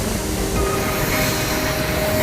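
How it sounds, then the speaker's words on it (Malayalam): Nilgiri Mountain Railway rack train on the Ooty–Mettupalayam hill line, a steady broadband rumble with a faint sustained tone, continuous and fairly close, no voices. "ഊട്ടിയെയും ബന്ധിപ്പിക്കുന്ന മലയോര തീവണ്ടി പാതയാണ് നീലഗിരി മൗണ്ടൻ റെയിൽവേ"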